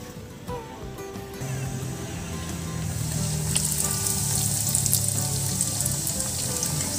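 Bread frying in deep oil for a New Year's meal: a steady, close sizzle that swells and grows louder and more crackly partway through, with no talk.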